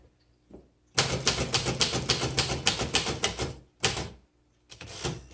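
Keys clatter on a 1934 Royal Model O manual typewriter with an Elite typeface and glass keys. Fast, even strokes come in a long burst, followed by a pause and then two shorter bursts, all crisp and close.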